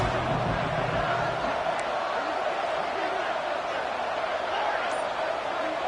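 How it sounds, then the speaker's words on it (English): Roaring college football stadium crowd cheering on a big third-down play, a dense, steady wall of noise throughout with a commentator talking over it. "if you didn't know this was a big play, the crowd is telling you"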